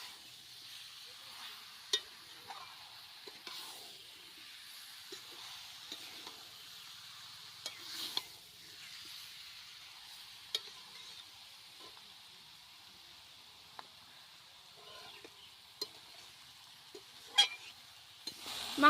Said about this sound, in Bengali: মাংস কষানো হয়ে গেছে